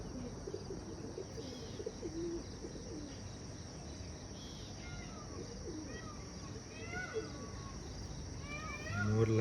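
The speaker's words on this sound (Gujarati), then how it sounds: "મોરલા બોલે છે ભાઈ." Peacocks call in the morning in rural Dharampur, distant repeated cries over steady ambient noise, crickets and other birds.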